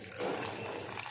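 Water is poured into a bowl of ingredients with salt and sugar to soak them, a brief close splashing trickle in a home kitchen.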